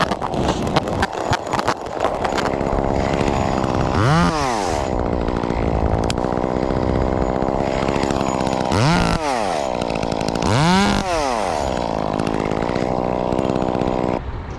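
Chainsaw cutting tree limbs, its engine roaring loud and close throughout, with several rising-and-falling revs as it bogs into wood and clears.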